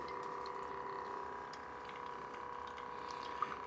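A Café Romano portable espresso machine pumps steadily while brewing a pod, giving a continuous buzzing drone with faint liquid trickling throughout.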